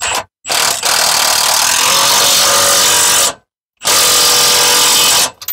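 A handheld power drill whirs steadily at close range while working on an engine bay angle bracket, running in long bursts broken by two brief pauses, with no talk.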